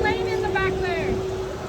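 A boat's motor drones steadily on Wascana Lake in summer, a constant hum running beneath close, continuous talking voices.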